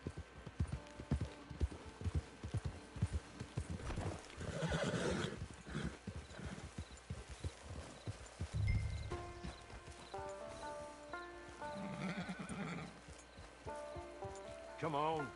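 Horse in the video game Red Dead Online near a camp, hooves clip-clopping at a walk with a couple of loud neighs and whinnies, under background game music and stray sounds.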